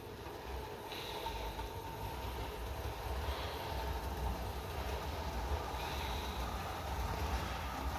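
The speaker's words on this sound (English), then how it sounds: "I have a train, partly running." A model train runs along its track with a steady, close mechanical rumble that holds evenly throughout, with a few faint higher whirs.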